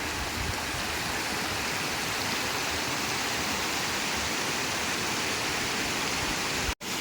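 Waterfall in Darjeeling pours in a steady, dense roar of rushing water, loud and close, continuous for the full length with a brief dropout just before the end.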